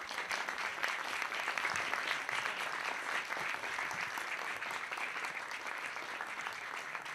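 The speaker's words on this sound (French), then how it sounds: "Donc je pense qu'on peut effectivement l'applaudir." Steady, sustained audience applause greeting a guest arriving at a French video game event evening, dense clapping from a crowd holding at an even level throughout with no talk over it.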